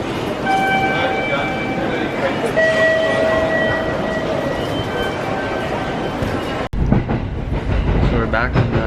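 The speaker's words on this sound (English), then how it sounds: "So we're back on the train." A Japanese passenger train rolls along on a rainy day in Chiba, giving a steady rumble with faint rail clatter and thin high squeals, then a sharp change in tone near the end as the car passes into a different space.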